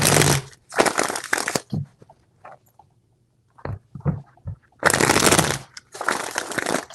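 Tarot cards are shuffled in close, crisp bursts at the start and again near the end, with soft handling taps in the quieter gap between.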